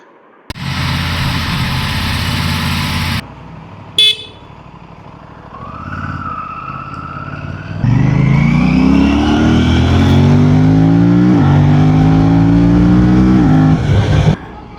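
Motorcycle engine idling, then revving and pulling away, with rising and falling engine tones under a steady loud drone.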